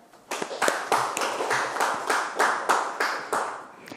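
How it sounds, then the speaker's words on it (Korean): Applause for retiring officials in a committee session of the Ulsan Metropolitan Council, sparse and distinct with individual claps landing in a brisk, slightly uneven rhythm from a small group in a quiet meeting room. "다시 한번 축하 박수를 보내주시기 바랍니다"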